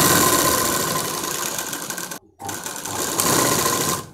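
A sewing machine runs steadily while stitching a lehenga, a continuous close whirring hum that cuts out briefly midway, then starts again and keeps running to the end.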